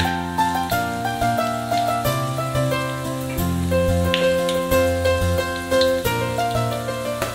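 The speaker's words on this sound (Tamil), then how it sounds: "பட்டை, லவங்கம், ஏலக்காய், ஸ்டார் அனிஸ், சிறுஞ்சீரகம், காஞ்ச மிளகாய் இதெல்லாம் போட்டு நல்லா ஃப்ரை பண்ணி எடுத்துக்கங்க" Cinnamon, cloves, cardamom, star anise, fennel and dried red chillies frying in oil for chicken gravy, a soft crackling sizzle heard faintly beneath steady background music.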